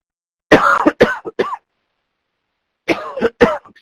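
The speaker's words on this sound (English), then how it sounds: "I just had a little coughing fit there" A coughing fit from a person in an online meeting: two close bursts of harsh coughs separated by a silent pause, loud and near.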